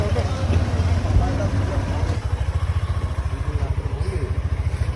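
A motorcycle rides steadily for the whole clip on the way to a train station, its engine a constant low pulsing rumble that stays close and loud, joined by wind noise.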